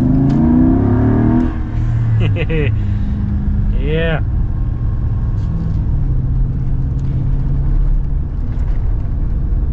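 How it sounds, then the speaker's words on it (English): A Jeep Gladiator 392 V8 runs close and loud while driving, with a steady deep engine drone and a brief rise in revs early on; someone speaks briefly over it. "It's got a clean V8 sound."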